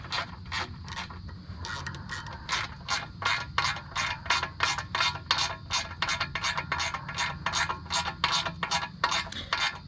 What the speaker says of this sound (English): I'm going to take my ratchet and tighten down the bolt